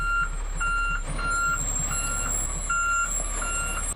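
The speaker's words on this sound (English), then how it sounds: "So I think we're gonna call in the dump truck." Steady, evenly spaced reversing beeps from a large truck repeat several times over a low, constant diesel engine rumble.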